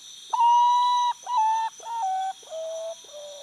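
A common potoo sings five mournful whistled notes, each held and sliding down, falling lower in pitch one after another, clear and alone.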